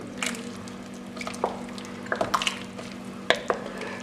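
Tomato puree being stirred into a steak and Guinness pie filling. Soft wet squelches and small spoon clicks come in scattered bursts over a low steady hum, fairly quiet and close.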